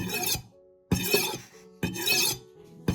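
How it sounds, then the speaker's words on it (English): A kitchen knife blade is pushed along the edge of a ceramic bowl in three separate rasping strokes, each a short gritty scrape, close and clear with quiet gaps between. "Place the blade on the edge of the bowl. Push the knife in the same direction, at a steady speed."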